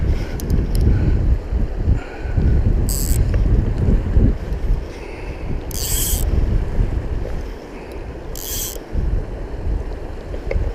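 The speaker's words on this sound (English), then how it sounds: "Wind is a killer. Always seems to be blowing against me." Wind gusts steadily beside the Gibbon River in Yellowstone, a loud, continuous roar of buffeting noise with a few brief higher hissing bursts.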